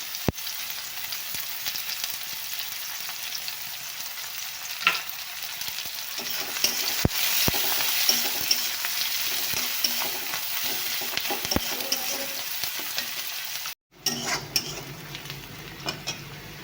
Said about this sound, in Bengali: এখন আমি কিন্তু ফোড়ন দিচ্ছি পেঁয়াজ দিয়ে